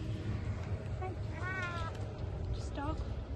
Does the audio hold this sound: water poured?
no